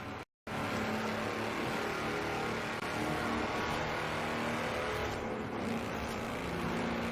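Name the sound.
engine revving in Forza Horizon 4 video game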